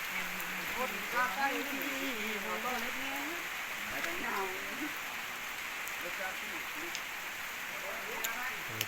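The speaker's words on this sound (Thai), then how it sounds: "ฝนก็ตกมื้อนี้พี่น้อง" Steady rain patters and hisses throughout while someone talks over it, in a rural village in Laos.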